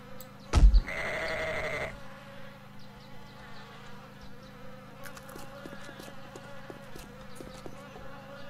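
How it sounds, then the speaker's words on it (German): Swarm of flies in the survival game 7 Days to Die, buzzing as a steady drone for several seconds after a brief loud impact and a sheep-like bleat, with no talking. "Die ganzen scheiß Fliegen."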